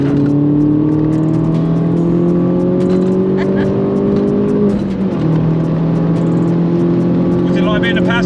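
A Mini R56 JCW track car's engine climbs steadily in pitch as it accelerates hard in a low gear, drops briefly at a gear change, then rises again, loud and close from inside the cabin with voices talking over it.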